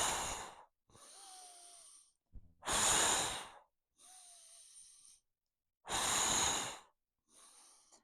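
Exercise breathing during a kicking workout, alternating loud breathy exhales and softer inhales, about six breaths in a slow, steady rhythm, close and with no talking.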